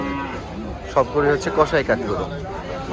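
Several cattle moo in overlapping calls amid a busy outdoor crowd at Gabtoli cattle market in Dhaka, with steady background chatter and livestock noise throughout.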